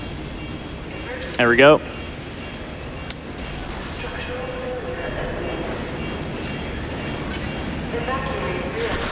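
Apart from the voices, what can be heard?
riding a tram rail car in the video game F.E.A.R. 2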